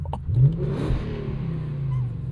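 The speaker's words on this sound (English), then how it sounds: "I left the windows down on purpose so I could give you guys some revs" A 1998 Lexus GS 400 with its 1UZ V8 revs hard, with the deep engine swell rising, holding and echoing steadily through the open windows for the whole stretch.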